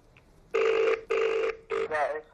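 A telephone rings in three bursts close by, electronic trilling tones with short gaps, the last burst cut short.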